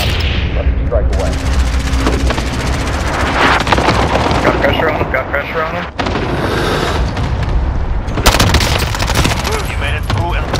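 Rapid gunfire bursts and heavy booms fill a Call of Duty Modern Warfare match, loud and continuous, with players talking over the shooting throughout.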